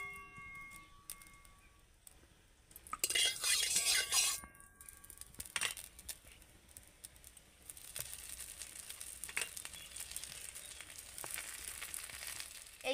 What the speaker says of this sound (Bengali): পরেরগুলো একইভাবে ভেজে নেব আমি।